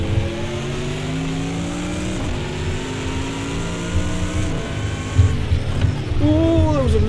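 An Aston Martin race car engine revs and holds high in a racing video game, with rising and falling harmonic whine, shifts and other cars' engines around it, loud and continuous.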